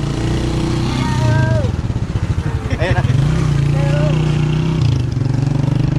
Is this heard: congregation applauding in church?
no